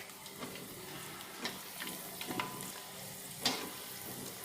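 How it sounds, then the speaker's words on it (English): Emping melinjo crackers fry in hot oil in a frying pan, a soft continuous sizzle broken by occasional sharp crackles and pops, heard up close and alone. "You may put the emping melinjo into the frying pan"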